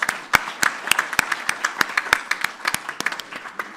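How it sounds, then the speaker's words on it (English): A small audience gives a round of applause for PES counselors at a research paper launch in Sarajevo, sparse, distinct individual claps at a fairly even pace rather than a dense ovation. "I want you to give a very big round of applause instead of me, but to them, to all of our PES counselors."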